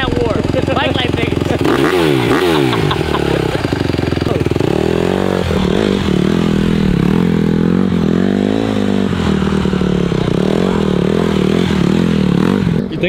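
A 2021 Honda CRF150R dirt bike engine runs loud and close, revving up and down in repeated sweeps with a harsh buzzing tone; voices can be heard under the engine noise.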